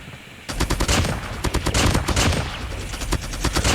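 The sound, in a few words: DR-H gun firing in video game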